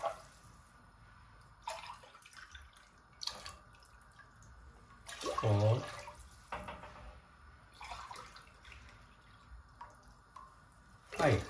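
Water from a glass is poured into a cooking pot for chicken biryani rice, several separate splashing pours spaced a few seconds apart, fairly close. A person talks quietly between the pours.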